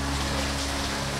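Rain falls at night as a steady, dense hiss of drops on surfaces, close and even throughout, with a low hum underneath.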